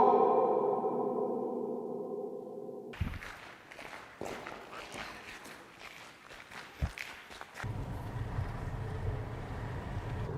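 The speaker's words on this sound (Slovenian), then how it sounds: "Poglejte, kakšen je tukaj hud odmev." Inside an abandoned military airfield complex in Bosnia, a strong echo follows each sound. A sustained tone gives way to scattered footsteps and sharp knocks that ring out and decay through the hollow space, with low rumbling toward the end.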